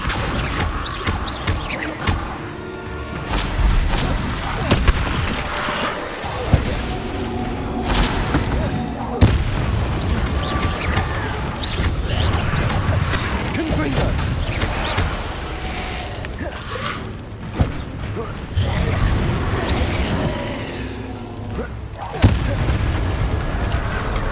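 Spell combat in the Hogwarts Legacy video game, with dense booming magical explosions and impacts thudding continuously for the full span, a loud layered battle mix with a voice casting spells over it.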